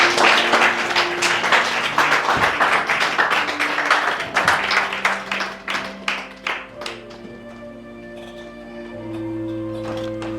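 A church congregation at a Sunday service claps and cheers for the Lord, dense applause that thins into scattered, slowing claps before fading, with a soft sustained tone rising underneath at the end.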